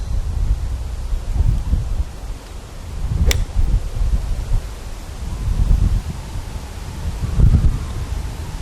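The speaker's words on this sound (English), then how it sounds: "the wind is ripping across here today. Probably hear it on the audio here." Strong wind blows across an open outdoor spot, buffeting the microphone in low, rumbling gusts that swell and ease over several seconds, with a brief sharp whoosh in the middle.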